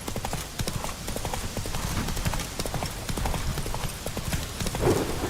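Roach, a horse in The Witcher 3, gallops with a dense, rapid, steady drumming of hooves, close and continuous, and a faint snort near the end.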